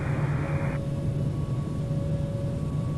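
An airliner's engines roar steadily during takeoff in the Infinite Flight game at JFK, a dense, constant rumble with a faint steady whine, heard alone.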